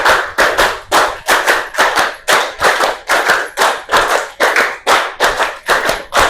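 A group of students claps in unison in a classroom lesson, a rapid patterned rhythm of sharp, loud hand claps repeated in short bursts close by, with no talking.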